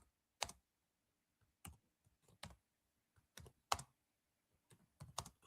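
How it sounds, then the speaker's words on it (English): Sparse clicks of keys on a computer keyboard, struck one at a time in irregular bursts with quiet gaps between, close and fairly faint, with no talking. "I'll be typing my answer."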